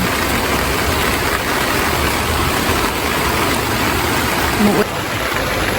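Steady rain hiss fills the whole stretch, dense and broadband, falling on a garden, with a low rumble underneath and faint background voices.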